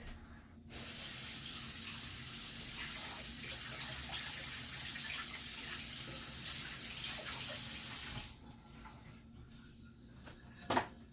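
Hands are washed under a running kitchen tap in a steady, fairly loud rush of water lasting about seven seconds. The flow then stops, followed by a quieter pause and a small knock.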